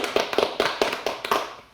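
Applause on a Kyrgyz television game show for married couples, a short burst of quick, steady hand claps from a small group, close and bright.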